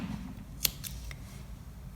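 A single close, crisp snip of scissors trimming knitting yarn from a baby's knitted vest, one sharp cut over a quiet low room rumble.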